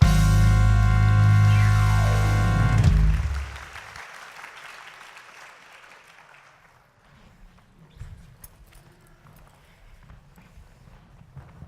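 Crowd applause after a song in a high school drama production of The Reluctant Dragon: after a loud sustained musical ending, scattered clapping follows, thinning and fading to sparse claps.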